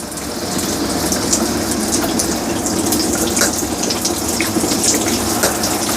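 Water runs steadily from an RV kitchen sink's side sprayer under low water pressure, a continuous close hiss and splash with no talking.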